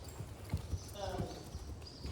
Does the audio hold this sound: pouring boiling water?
no